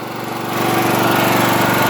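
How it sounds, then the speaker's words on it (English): Multi-Quip industrial generator with a Honda engine, rated at 6,000 watts, running as home backup power: a loud, steady engine drone with a fast, even pulsing throughout, close to the microphone with no speech. "This here's a Multi-Quip, an industrial generator with a Honda engine"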